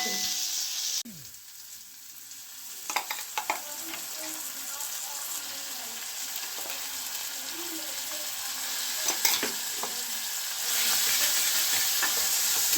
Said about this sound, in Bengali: এটা ভাজা হচ্ছে।